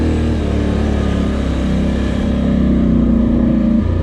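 A Polaris Sportsman 1000 XP ATV engine works steadily under gentle throttle while climbing a rocky trail hill, a loud, close, continuous drone with a slowly rising tone and no talk.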